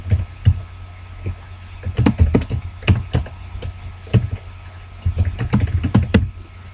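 Typing an email address on a computer keyboard, irregular bursts of close, crisp key clicks and taps with short pauses between, no speech.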